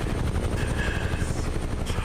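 A helicopter in Microsoft Flight Simulator flies with a steady, loud rotor and engine drone, a dense low rumble with faint chopping pulses that holds constant throughout.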